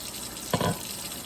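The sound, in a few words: hot water from boiled eggs poured down sink drain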